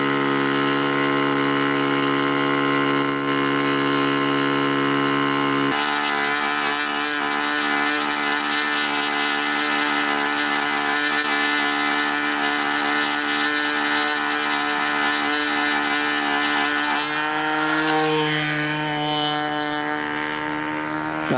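A Super Tiger glow engine on a Brodak Cardinal control-line model airplane runs continuously at a high, steady whine with a buzzy harmonic drone, shifting pitch slightly partway through and again near the end, close and loud throughout.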